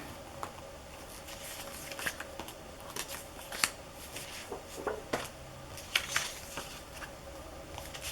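Printed and cut-out Graphic 45 paper pieces being handled: soft, close papery rustles, shuffles and light taps scattered irregularly throughout, quiet overall.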